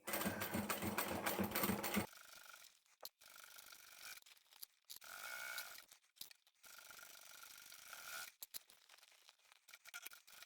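A sewing machine stitches the side seam of a vinyl handbag. A fast, dense whirring burst opens, then shorter mechanical runs of stitching start and stop with quiet gaps between them.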